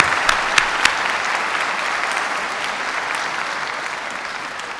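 A large crowd at a 2025 STEM high school graduation ceremony applauds steadily, a broad continuous wash of clapping with a few sharper claps up front, then slowly easing.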